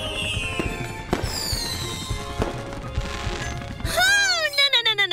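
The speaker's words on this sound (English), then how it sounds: "Never get too close to fireworks!" Fireworks crack and boom in a dense, loud barrage, with whistling and crackling bursts layered over the explosions, then a bright rising squeal near the end.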